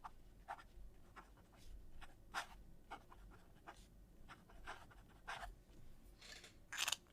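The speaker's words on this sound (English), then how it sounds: "It's like you're writing with a vintage flex nib, finally." Fountain pen with a flex nib and ebonite feed scratching across paper in quiet, irregular strokes, soft and close with occasional brighter scrapes.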